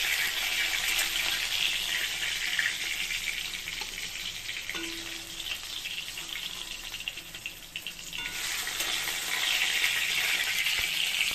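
A fish head fries in hot oil in a kadai, giving a steady, close, dense sizzle that holds throughout with slight swells in loudness and no talking.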